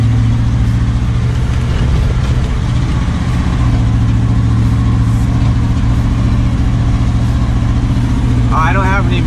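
An old tow truck engine runs steadily while driving with a low, droning rumble, close and loud, with a brief higher squeak near the end.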